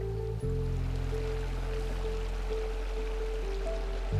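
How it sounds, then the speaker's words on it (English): Creek water flows steadily from a stock tank outflow in dry Chiricahua leopard frog habitat, making a continuous close rushing wash with a faint low hum beneath it. "The outflow of this stock tank feeds into a creek where the biologists are looking for frogs."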